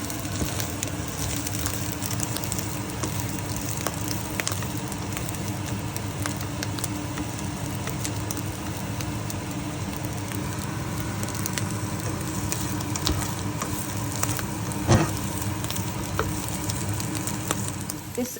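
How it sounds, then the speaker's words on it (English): Vegan vegetable stir fry mix sizzling steadily in a pan, a continuous crackling fry with occasional stirring clicks and no talking. "I love stir fry."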